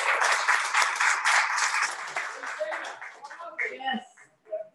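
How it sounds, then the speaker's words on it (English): Audience applause and clapping for veteran business owners at a community veterans' salute in a coffee shop, a dense burst that thins out and fades over a few seconds, with scattered voices and cheers mixed in toward the end. "Let's give them a round of applause, please."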